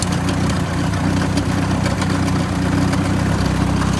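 Toyota Wolverine engine idling roughly after a restart, a steady, close, low rumble with an uneven choppy pulse and no talk over it.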